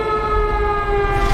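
Tsunami warning sirens wail over a shoreline where onlookers have gathered, a loud, steady, continuous tone holding its pitch throughout without pause.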